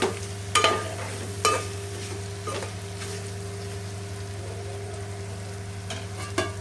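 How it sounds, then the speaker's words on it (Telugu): Chicken fry with curry leaves and green chilli slits being stirred in a pan, Andhra style: a few spaced scraping clanks of the spoon over a steady low sizzle and hum, fairly close. "పచ్చిమిర్చి చీలికను కూడా వేసి అంతా ఒకసారి కలిసేటట్టు ఇలా కలపాలి."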